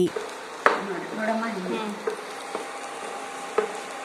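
Ingredients for elephant foot yam chutney, including coconut, roast in a pan with a soft, steady sizzle, a sharp utensil knock near the start and a few lighter scraping taps after.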